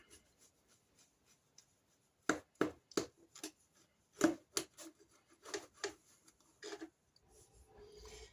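A knife slices through a currant jam roll in a quiet room, giving a series of sharp, close cutting taps and short scrapes spread over a few seconds, with near silence before and between.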